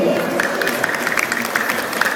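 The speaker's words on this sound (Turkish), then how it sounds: "Alkışlar geliyor değil mi?" Crowd at a Şanlıurfa shopping mall juggling show applauding, a moderate patter of clapping hands at a steady level through the brief stretch.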